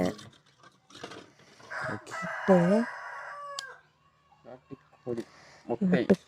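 A rooster crows loudly up close, with hens clucking around it and people talking intermittently nearby.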